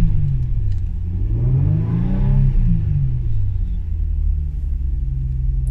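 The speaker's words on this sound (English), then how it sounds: "Here we are with the door closed, and these are some revs for you." A high-mileage project car's engine revs from inside the cabin with the door closed, a muffled low rumble that climbs through a single smooth rev and falls back to idle. Steady and close, with no talk.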